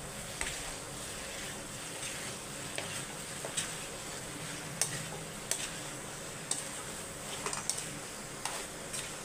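Potato masala roasting in oil in a pan while being stirred, a faint steady sizzle broken by occasional sharp ticks and scrapes of the spoon, no talking.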